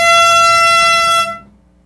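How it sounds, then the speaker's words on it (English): Air horn prank: one loud, blaring air horn blast holding a steady harsh tone for over a second before cutting off abruptly. "Air horn prank."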